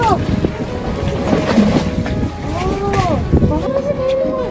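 A speedboat idles beside an iceberg off Greenland, its motor a steady low drone with wind buffeting the microphone and water lapping close by, while voices talk over it.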